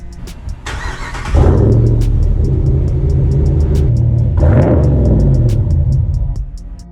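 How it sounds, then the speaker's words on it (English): A Ram 1500 Rebel pickup engine rumbles loudly through a deep aftermarket muffler, with two swells of revving over a steady low idle. "this muffler, it sounds great"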